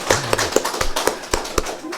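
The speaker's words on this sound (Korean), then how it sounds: "네 그래도 박수 하세요." Church congregation at a Korean Sunday worship service clapping, a sparse handful of separate sharp claps spaced unevenly across two seconds, close and fairly loud.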